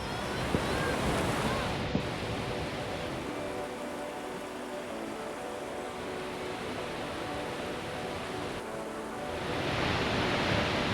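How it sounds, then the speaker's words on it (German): Steady broadband roar of Snoqualmie Falls, a large waterfall, heard from a distance as a continuous even wash of falling water with slight wind buffeting, no voices. "Erster Stopp, die Snoqualmie Wasserfälle"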